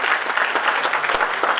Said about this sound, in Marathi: एकदा जोरदार त्यांच्यासाठी टाळ्या वाजल्या पाहिजे